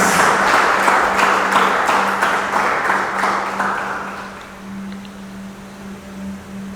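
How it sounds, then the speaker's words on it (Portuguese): A church congregation applauds loudly at first, the clapping gradually fading over about four seconds into a low, steady hum of the room. "Será que você pode aplaudir o Senhor por isso?"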